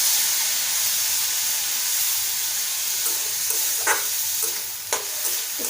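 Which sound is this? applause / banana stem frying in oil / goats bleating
banana stem frying in oil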